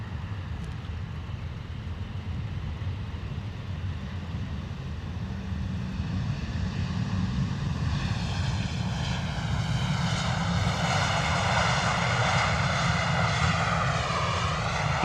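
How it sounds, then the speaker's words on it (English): An EasyJet airliner on arrival at misty London Luton Airport, its jet engine roar building steadily and loud over fifteen seconds, with a rising whine and shifting tonal sweep as it passes close by. "Lovely arrival there from EasyJet."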